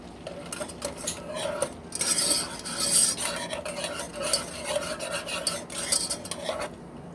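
A metal utensil lightly stirs and scrapes the bottom of a cooking pan in quick, repeated strokes, making close, clear scraping and clinking with no talk.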